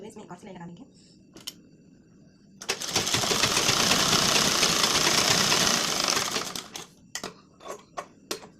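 Electric sewing machine running a steady stitching burst on a blouse piece with tucks, loud and continuous for about three seconds between quieter handling taps and clicks, with faint voice at the start.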